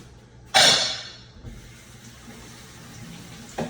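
A brief rush of running tap water bursts out loudly, then tapers into a low, steady hiss of water in a sink while Brussels sprouts are rinsed.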